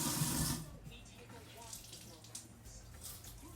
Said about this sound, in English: I actually take bread and wet it.